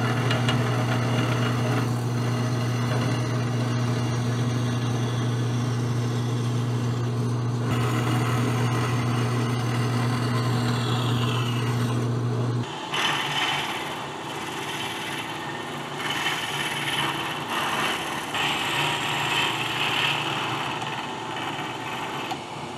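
A metal lathe drilling soft metal with a drill held in the tailstock: a steady motor hum with a strong low drone for the first half, then a brighter, scratchier cutting sound after the hum drops away, no talking.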